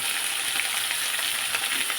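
Vegetables sizzle steadily in a hot pan in a home kitchen, a loud, even frying hiss with small pops throughout and no voices.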